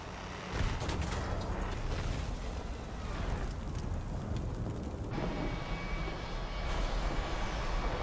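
An aircraft roars past in a video game, a loud rushing engine sweep with rumbling, explosive-sounding low noise that swells, then drops off abruptly as the pass ends, with no talk.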